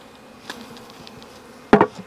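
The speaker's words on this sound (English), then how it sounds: "Just a few bees there, and then shake them in here." Bees from a swarm cut off a branch buzz faintly around the hive box, with soft knocks and a sharp louder thump and rustle near the end as they are shaken in.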